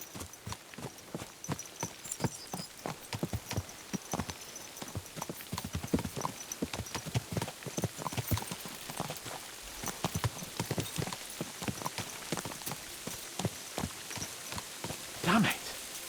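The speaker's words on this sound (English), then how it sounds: "Let's really spur these horses on, eh?" Horses' hooves clip-clop in a quick, rhythmic gallop in the medieval game Kingdom Come: Deliverance II, several riders' hoofbeats overlapping close by, with a brief whinny near the end.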